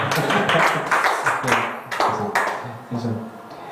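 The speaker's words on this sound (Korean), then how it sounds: "잘했죠? 박수 하세요." A church congregation applauds during a Sunday service, with sharp, scattered claps falling in a loose, roughly steady rhythm while voices murmur underneath.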